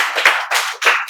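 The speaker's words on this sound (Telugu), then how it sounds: "క్లాప్స్." Students in a spoken English classroom give a short burst of applause, a few sharp claps in quick clusters, close and fairly loud, with no talking.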